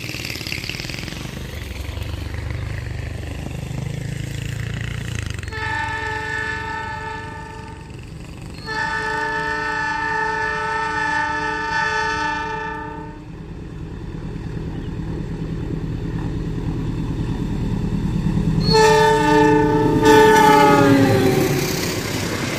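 A locomotive on a long train sounds its horn at an unofficial level crossing where people cross behind it, in three long chord blasts with gaps between them, loud and close over heavy rumbling running noise.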